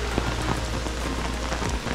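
Heavy rain pours down steadily on surfaces outdoors near water in a small South Carolina town, a dense continuous hiss with scattered drop impacts and no talk.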